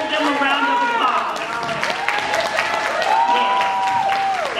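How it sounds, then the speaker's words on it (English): Parents and guests at a kindergarten promotion ceremony applaud award recipients, steady close clapping with scattered cheers and a few voices over it throughout. "Let's give them a round of applause."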